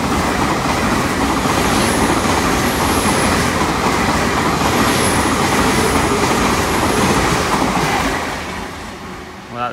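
A Class 802 passenger train roars past close by at Dawlish Warren, a loud continuous rush of wheels and air with faint high squeals, fading slightly at the end.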